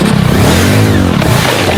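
A motorcycle engine revs loud and close for about two seconds, its pitch rising and then falling back in a steady, unbroken roar.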